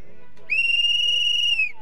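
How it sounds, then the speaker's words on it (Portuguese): A single sharp, shrill alarm whistle blast sounds for just over a second, loud and steady, following a brief quiet moment. "Eles criaram um método de alertar a polícia, um grito de socorro por apito."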